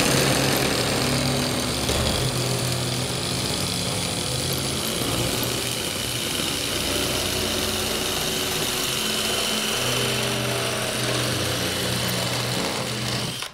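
A power tool cuts steadily through a 1/4 inch sheet of Hardie backer cement board, giving a loud, continuous whining drone with a grinding edge that holds for about thirteen seconds without talk.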